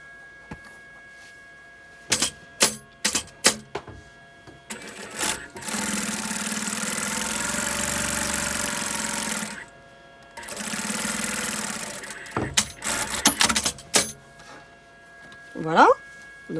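A sewing machine stitches the side of a drawstring bag in two sustained whirring runs, each several seconds long, framed by clicks and handling knocks before and after, with someone speaking French between the runs.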